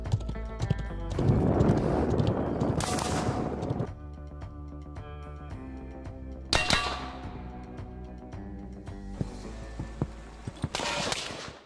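Horse hooves clip-clop and a horse whinnies while sharp gunshots fired from horseback crack out several times, with clanging and rustling in between.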